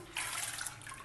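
Dry lentils pour into water in a bowl while making shami kebab, giving a short, close splashing and rustling patter that runs steadily for about a second with no talk.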